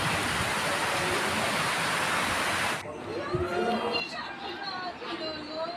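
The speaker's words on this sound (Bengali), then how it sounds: "দেখো কত সুন্দর বৃষ্টি হচ্ছে" Heavy rain falling outside a window, a dense steady roar for a few seconds that cuts off abruptly, after which a voice speaks over quiet room sound.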